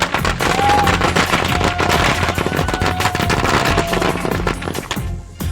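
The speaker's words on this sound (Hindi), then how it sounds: "लोग सड़क पर आतिशबाजी करते नजर आए।" Fireworks and firecrackers bursting in a street during victory celebrations, a dense, continuous barrage of sharp cracks and bangs in rapid succession, loud and close, with a faint whistle rising early on.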